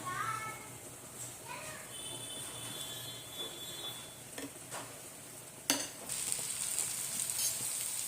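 Peas cook in a masala gravy with a soft sizzle under household sounds. Faint children's voices and utensil clinks come through, and a sharp clatter is followed by louder frying.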